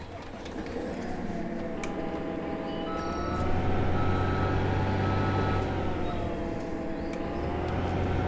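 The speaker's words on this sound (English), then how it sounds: "jump into our fantastic little skid steer" A small skid steer drives around in the Farming Simulator 2015 video game, a steady engine hum with mechanical whine that rises slightly in pitch and loudness midway and keeps going throughout, with no talking.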